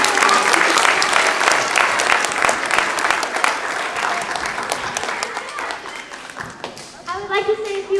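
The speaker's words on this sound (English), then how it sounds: "So one last round of applause for everyone." A theater audience claps in a full round of applause for performers that gradually fades, with someone beginning to speak over the last of the clapping.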